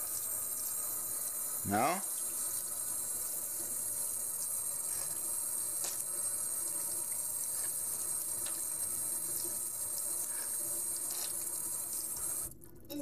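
Water runs from an opened tap in a steady, moderate hiss that lasts the whole stretch, with a brief voice near the start and small clinks over it.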